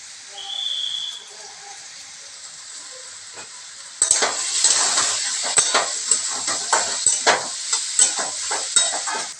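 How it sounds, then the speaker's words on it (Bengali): Watermelon rind frying in oil in a pan for a mustard and poppy seed paturi, a steady close sizzle that grows louder halfway through, with repeated stirring scrapes and clatters on top. "এটা বেশ ভাজা ভাজা হচ্ছে।"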